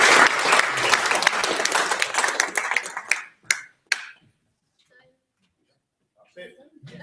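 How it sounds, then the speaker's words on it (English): An audience at a Young Person Question Time event applauds loudly for about three seconds, then the clapping thins to a few last claps before quiet with faint stray sounds. "Round of applause for all of you, really."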